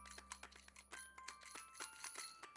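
Small bells on a yellow toy bunny jingling in quick, faint, irregular tinkles, close by and alone against a quiet room hum.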